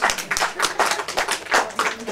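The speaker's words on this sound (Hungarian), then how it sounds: "neki egy tapsot!" Guests at a wedding bride-request ceremony give the bride a short burst of hand clapping, brisk and close, with voices mixed in.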